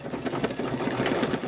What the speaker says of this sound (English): it's only going to take about 12 minutes to stitch this out.